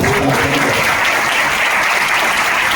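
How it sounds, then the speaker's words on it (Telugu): Congregation clapping together at a Sunday church service at Messiah Temple in Pedakakani, dense, loud, continuous applause filling the room throughout. "చప్పట్లు కొట్టి దేవుడు"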